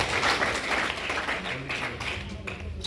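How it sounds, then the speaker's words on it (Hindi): Audience applause at a Holi celebration gathering, a dense burst of clapping from many hands that slowly fades, with a voice speaking over it. "भाई जी के लिए जोरदार तालियां।"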